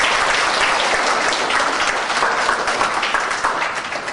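A crowd applauds at a youth photography exhibition held at an aquapark, a thick, even roar of clapping that holds steady and begins to thin toward the end.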